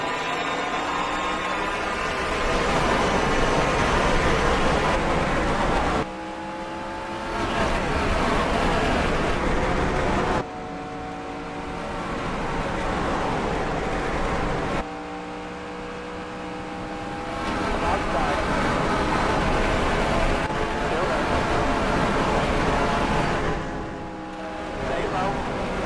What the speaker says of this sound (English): Who will it be as they come down to the green flag and we turn them loose at Atlanta Motor Speedway?